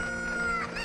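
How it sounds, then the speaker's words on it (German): Chickens cluck in the Zelda: Ocarina of Time 3D video game, a steady close burst of game poultry sound with no talk. "Meine Hühner."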